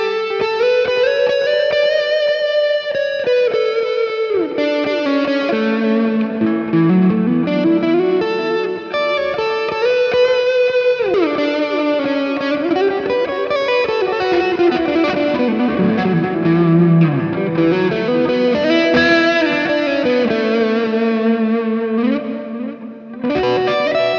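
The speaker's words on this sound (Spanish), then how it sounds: "A veces hay los solos, uso un poco de delay, pero ¿qué sucede si yo le agrego reverb?" An electric guitar solo played through delay and reverb pedals, with overdrive or distortion on the tone, sustains bending melodic lines that echo and trail off. It is loud and continuous, with no talking over it.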